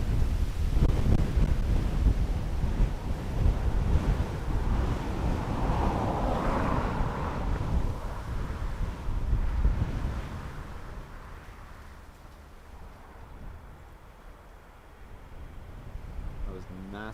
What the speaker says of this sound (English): Nasty gust of breeze. You probably heard it.